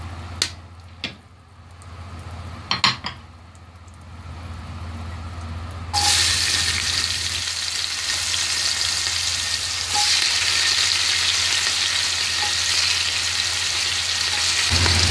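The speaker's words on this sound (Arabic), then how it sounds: "اهو الزيت بدا يسخن عندي وشوحت البهارات بتاعتي تشويحه كده بسيطه. هنزل عليهم بالبصل" Spices in hot oil, with onions then dropped in for a Bedouin-style lamb mandi: a few faint clicks at first, then a sudden loud, steady sizzle of frying that continues to the end, close by.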